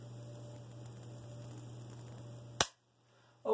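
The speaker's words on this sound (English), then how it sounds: "We're going to take it off safe and just see how the trigger feels." A pump-action shotgun's trigger is pulled on an empty chamber, giving one sharp dry-fire click after steady electrical hum, then a short silence and the start of a second click at the very end.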